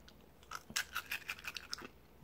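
Crunchy almond snack from Italy being chewed close up: a short series of crisp, crackly crunches in an uneven rhythm, fairly quiet with no talking.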